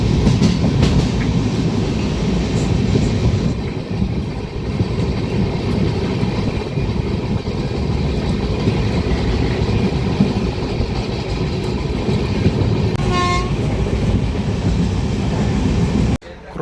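A train rumbles past at a railway crossing near Badnapur, a steady loud roll with rhythmic clatter of wheels on rails that lasts throughout, and a brief tonal sound near the end.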